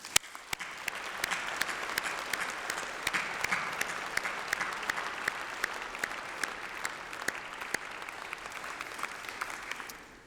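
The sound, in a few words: graduation ceremony audience applause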